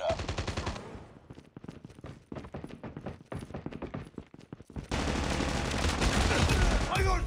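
Rapid bursts of automatic gunfire from the video game Call of Duty Mobile, a dense opening volley, then a spread of sharp individual shots, and finally a loud continuous stretch of fire and effects.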